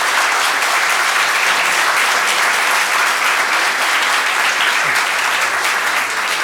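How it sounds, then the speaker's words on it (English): Sustained audience applause at a school district bond meeting fills the room, dense and steady from start to finish with no talk over it. "I didn't expect applause"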